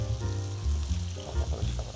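Shrimp fry in oil in an induction paella pan while black rice is being made, a close, steady sizzle with bubbling crackle over a low hum.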